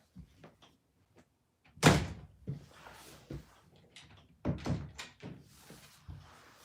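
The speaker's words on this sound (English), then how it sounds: "let me close this door" An indoor door swings shut with one loud thud near the two-second mark, followed by a few softer knocks and bumps in an otherwise quiet room.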